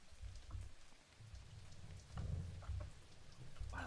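Rain falling in a rainy mission of the stealth video game Thief, a steady patter of drops with soft low thunder-like rumbles swelling and fading.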